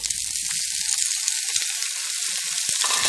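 Carrots and beans frying in a pan, a loud, steady broadband sizzle that holds evenly throughout with light stirring clicks underneath and no talking.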